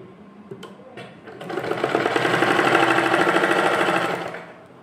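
A sewing machine stitching the sides of a small summer dress for a Kanha ji idol, its motor rising into a loud, fast, close rattling run of a few seconds before slowing to a stop.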